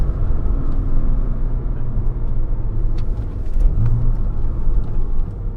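A 2007 Porsche Cayman S, about 2,900 pounds, drones with a deep, loud engine rumble heard from inside the cabin, with a short rising throttle blip near the end as the driver heel-toes through a downshift.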